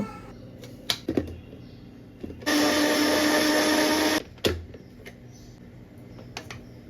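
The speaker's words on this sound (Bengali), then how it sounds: "টমেটো পিউরি বানানোর জন্য আমি ইউজ করছি এগারো চারশো ওয়াটের পার্সোনাল ব্লেন্ডার" A 1400 W personal blender purees tomatoes in one loud, steady whirring burst of about two seconds, with scattered clicks and handling knocks before and after.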